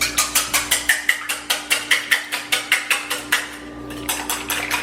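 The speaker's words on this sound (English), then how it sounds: "I love the sound of eggs whisking." Two eggs whisked by hand in a kitchen bowl: a fast, steady run of about twenty close, crisp clicking strokes, then a brief pause before whisking resumes.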